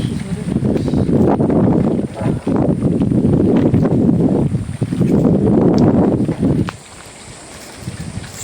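Stormy wind under a cloudy sky buffets the microphone in heavy, roaring gusts. It drops briefly between blasts and then eases to a quieter rush near the end.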